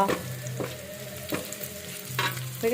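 Lentil vadi (bori) fry in oil for a mustard-greens dish, a steady close sizzle broken by a few rhythmic spatula stirring strokes about every half second to second.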